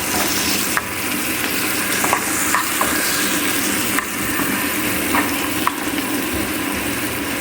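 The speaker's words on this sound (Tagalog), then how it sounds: "nagisa tayo ng sibuyas" Onions sautéing in a pan for canned tuna, a steady close frying sizzle with occasional light clicks of a utensil, no voices.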